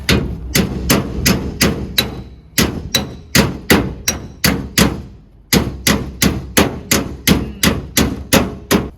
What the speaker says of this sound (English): If I hit it without a dolly, we're just going to put more dents.